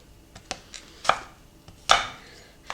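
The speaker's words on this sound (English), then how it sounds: "I'm just going to rough cut these into big pieces." A knife rough-cuts baking apples into big pieces on a board, producing several irregular chops of varying strength, two of them loud and sharp, close up with quiet gaps between and no talking.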